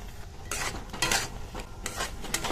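A metal spatula stirs and lifts raw green mango jelly in a pan, producing a few soft scraping and clinking strokes against the pan surface at an irregular pace, close up, with no talking.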